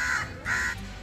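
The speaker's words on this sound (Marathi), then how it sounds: "हा कावळा 8:30 वाजता इथं बसलेला आहे, अजून याच ठिकाणी आहे." A crow gives two harsh, drawn-out caws in quick succession, loud and close, with steady low background rumble and no speech.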